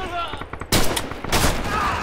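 Sharp bursts of gunfire during a paintball or airsoft game outdoors: one sudden loud volley and then a second, with voices talking around them.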